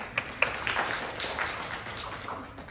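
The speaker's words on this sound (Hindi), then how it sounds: "उनके लिए अग्रिम तालियां" Brief, fairly soft clapping from a small audience at a Hindi poetry gathering, with a few sharper individual claps in a light, scattered patter.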